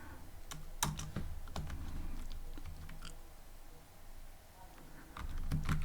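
Someone types code on a computer keyboard in a quiet room. Key clicks come in short, uneven bursts, with a few louder taps standing out from the softer run of keystrokes.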